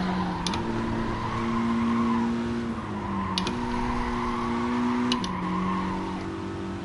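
Race car engine screaming at high revs in Gran Turismo Sport, a loud sustained whine that climbs in pitch and drops sharply at gear shifts, with brief clicks at each change.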